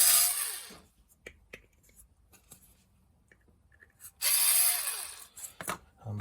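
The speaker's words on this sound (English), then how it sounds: "Go ahead and deburr on the inside." A metal chest box part is deburred along its inside edge, with two bursts of harsh close scraping separated by quieter scattered ticks and small clicks.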